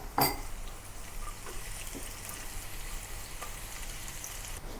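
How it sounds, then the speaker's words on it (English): A soft, continuous sizzle of onion sautéing in oil left from pan-frying tofu, opening with a sharp clatter, then steady crackling throughout. "Saute the onion with the remaining oil after pan frying the tofu."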